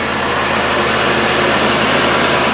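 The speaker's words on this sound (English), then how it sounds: "Maybe the car sounds better every time I start it." A 1981 Alfa Romeo Spider Veloce engine running close by, a loud, steady idle with a continuous low drone and even mechanical hum and no voices over it.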